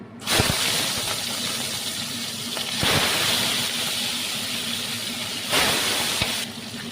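Pieces of rui fish sizzle in hot oil in a kadai, a steady close frying hiss running throughout with brief louder bursts as each piece goes in.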